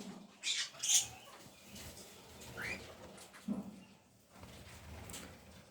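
Caged exotic birds, budgies and African lovebirds, give a few faint, brief chirps and squeaks against a quiet room background, with long pauses between calls.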